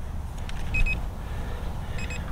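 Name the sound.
SJ R/C S20W GPS drone controller beep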